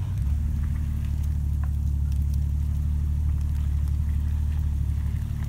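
A Jeep ploughs through a one-foot-deep puddle, giving a steady, loud, close low engine rumble with faint water patter on top, continuous for the whole stretch and with no voices.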